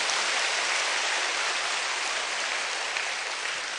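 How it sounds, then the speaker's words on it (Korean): A large church congregation applauds at a testimony talk, a dense, steady wash of clapping that fills the whole stretch evenly and without a break. "박수 쳐주셔도 좋습니다."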